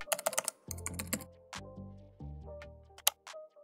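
Typing on a computer keyboard, with irregular bursts of close, crisp key clicks and pauses between them, heard alone without any talking.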